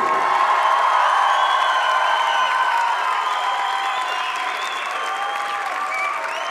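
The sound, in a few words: audience applause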